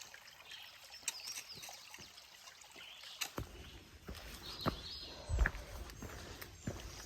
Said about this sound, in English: First creek of, I think, many today.